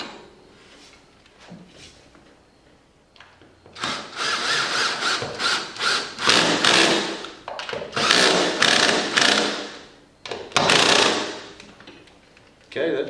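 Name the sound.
driving lag bolts to mount a Liftmaster garage door opener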